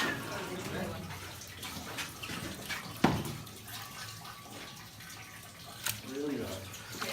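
Cheese curds and whey dumped into a mold during traditional cheese making in Switzerland, a splashing liquid pour with a sharp slosh near the middle, under people talking nearby.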